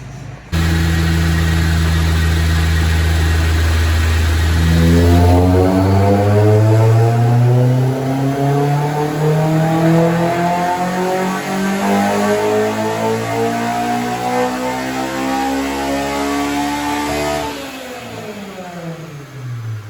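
A Honda S2000 with bolt-on modifications revs hard on a dyno. After a steady idle, the engine climbs sharply to a loud, sustained high-rpm wail, then drops back to idle, close and unaccompanied.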